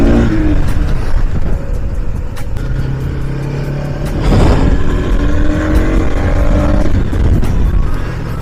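A Bajaj Pulsar NS200 BS6 motorcycle out on an evening ride, its engine droning loud and close with steady wind rush and shifting revs throughout.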